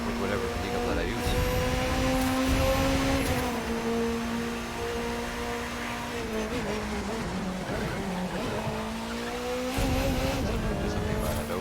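Race car engine in The Crew 2 racing game on the Summit "Rising Sun" event, a steady loud drone with shifting harmonics as the driver lifts off throttle, brief tire noise mixed in, continuous over about twelve seconds under faint talk.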